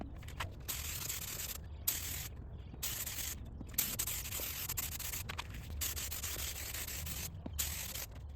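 Bursts of spray gun hissing urethane finish onto wooden drawers start and stop in a rapid series of pulses, close and steady, over a low background hum.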